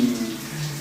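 Warm water running from a tap for washing, a short steady gush with a low hum, close and fairly loud.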